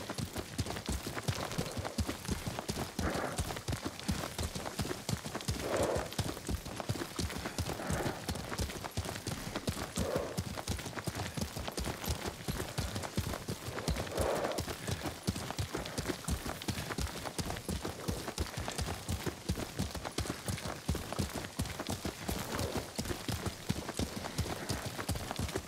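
Rapid, steady hoofbeats of a galloping horse ridden across open ground in the samurai game Ghost of Tsushima, a dense rhythmic clatter running continuously and close, with a few faint low voices beneath.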